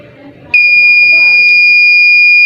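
A loud, continuous high-pitched electronic buzzer tone from a PIR-sensor visitor counter, triggered when the count exceeds five, starts abruptly after a moment of faint background noise and holds steady.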